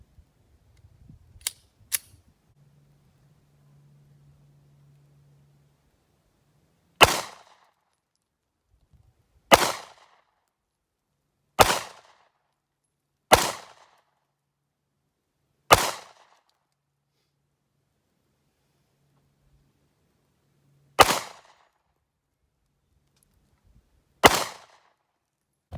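Kimber 9mm 1911-style pistol fired at an outdoor gun range from 15 feet, seven sharp loud shots spaced irregularly a few seconds apart, with quiet gaps and a brief low hum between.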